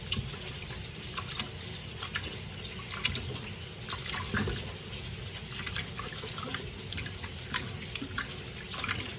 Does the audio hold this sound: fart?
no